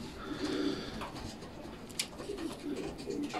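Racing pigeons coo softly inside a loft housing 1,200 km race winners and breeders. The low, repeated coos are faint and sit among quiet rustling and background sounds.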